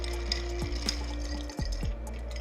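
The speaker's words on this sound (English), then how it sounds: "just add our ice and then gently stir this in our mixing glass" Ice stirred gently in a mixing glass for a cocktail, a few soft clinks and swirls of cubes against glass over a low steady background hum, close and quiet with no talking.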